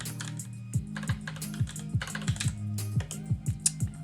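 Fingers typing on a computer keyboard at a desk, a steady run of close, crisp key clicks with a low hum beneath.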